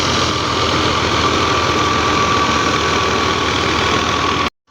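An older-model tractor engine idles near a thresher on a grain field, a loud steady mid-pitched rumble with a faint knocking pulse and a constant whine, running unchanged until it cuts off abruptly.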